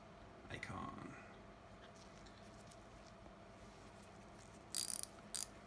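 An Icon 1/4 inch ratchet gives a couple of short bursts of rapid clicking, faint and close, after a long stretch of quiet background.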